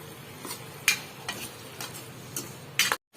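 Poha being stirred together with added sugar and lemon for Gujarati batata poha, a few soft scraping clinks of a spoon against the pan in a quiet kitchen, with no talk.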